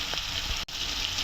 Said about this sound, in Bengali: বন্ধুরা, আদা রসুন দিয়ে দিলাম। আলুটা হালকা ভাজা হয়েছে।